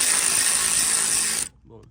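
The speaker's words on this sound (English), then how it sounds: "go ahead and hit them with the electric ratchet" An electric ratchet spins and tightens engine mount bolts on a 1998–2002 Honda Accord four-cylinder, giving a loud, close, continuous whirring buzz for about a second and a half before it cuts off abruptly.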